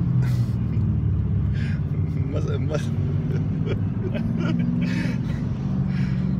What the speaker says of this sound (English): just to watch two guys driving a Mustang